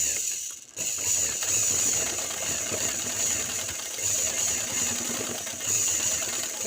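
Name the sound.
sewing machine stitching elastic onto straight pant waistband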